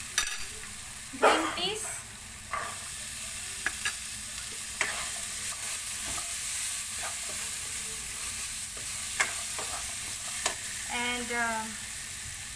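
Vegetables for a biryani sizzle gently in a pan while a spoon scrapes and stirs in scattered strokes, a soft steady fry underneath; someone speaks briefly over it.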